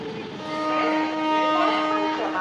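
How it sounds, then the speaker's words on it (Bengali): A Duronto Express, a nonstop train from Chennai Central to Vijayawada, passes with a swelling mechanical rumble and steady tonal whine, growing louder midway and holding fairly close. "এই যে আমাদের ট্রেন, এই দিক দিয়ে আসছে দুরন্ত এক্সপ্রেস ভাই"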